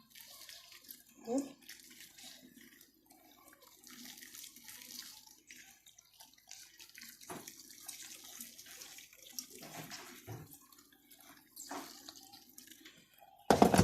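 Tap water trickles and drips faintly into a basin, with occasional clinks and quiet background sounds throughout.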